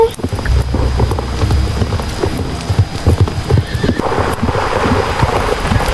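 Horse hooves clip-clopping in a role-playing video game, a steady rhythmic trot up close over soft rain-like background patter, with no talk.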